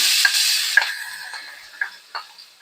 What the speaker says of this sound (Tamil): வாசனை போற வரைக்கும் எல்லாத்தையும் நல்லா வதக்கி விட்டுக்கலாம்.